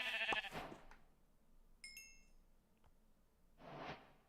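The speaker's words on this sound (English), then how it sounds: "Sheep, sheep. Come here, sheep. Give me your wool." Minecraft sheep bleat in-game, one short bleat early and another near the end, with faint clinking chimes between them, fairly quiet overall.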